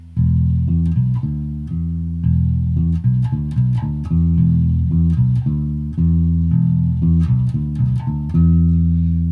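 Bass guitar plays the intro and verse of a theme, a repeating riff of sustained low notes with plucked attacks, clear and close with no voices.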